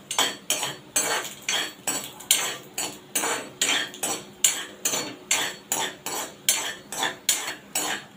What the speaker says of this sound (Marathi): आता हे आपण चांगले परतून घेऊया आधी।